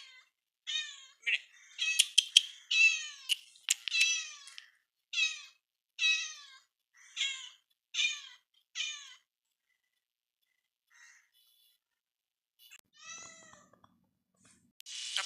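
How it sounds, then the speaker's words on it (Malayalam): A cat meows near a home kitchen where fish is being fried: a quick run of about ten loud, close meows, a long quiet pause, then a couple more. "ഒരു പൂച്ച അതാണ് ഇപ്പോൾ ഇവിടെ വന്നിട്ടുള്ളത്"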